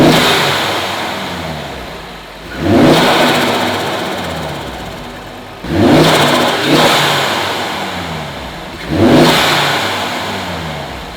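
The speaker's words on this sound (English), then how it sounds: "we can't really hear the difference of how it sounds from just revving it" An Audi RS3 fitted with a 5 inch air intake revs three times while parked, each sharp, loud blip climbing then falling back to a steady idle between, with no talk.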